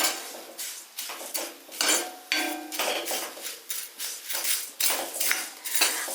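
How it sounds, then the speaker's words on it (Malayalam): Flattened rice being fried and stirred in a pan, a metal spoon scraping and clattering against the pan in repeated, rhythmic strokes about once per second, close and fairly loud with no talking. "അപ്പോൾ ഇനി അവല് ഒന്ന് വറുത്തിട്ടെടുക്കാവേ"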